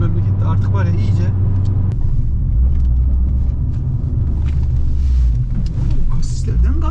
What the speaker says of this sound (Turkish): Kasislerden gaz kesmeden geçti Serhat İnci.